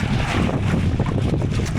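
Strong wind roars and buffets the microphone continuously on a fishing boat at sea, a loud low rumble with gusty fluctuations.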